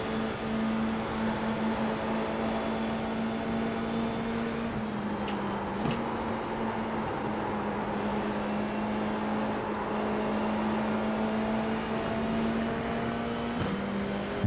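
Race car engine in a racing video game, a steady sustained drone holding a constant pitch with brief shifts, continuous and unbroken, no voices.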